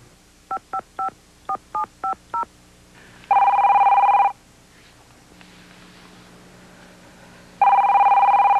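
A telephone is dialed with a quick run of seven touch-tone beeps, then a landline rings in two loud, sustained electronic bursts separated by a pause, indoors and close, with no talk.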